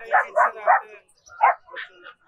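Several quick barks from small dogs, including Shih Tzus, at a pet market, then a pause and a few more yips, fairly close and clear.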